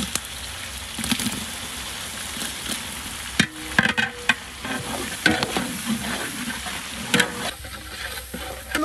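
Tomatoes frying in a pan with sautéed ginger and garlic for a jackfruit veg biryani, a steady close sizzle broken by repeated louder clatters of stirring.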